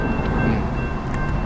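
A train passing close by, loud continuous rumbling roar of rail cars with steady clatter, filling the whole moment without speech.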